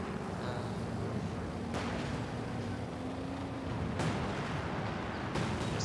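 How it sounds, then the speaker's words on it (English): Artillery fire in the World War II strategy game Company of Heroes 2, heard as a dense, steady rumbling barrage with a few sharper bursts standing out around two and four seconds, continuous and without talk. "constant artillery going on everywhere."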